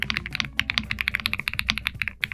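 Typing on a Rexus Aether wireless budget keyboard, a quick run of crisp, poppy keystrokes close up with steady rhythm and no talk.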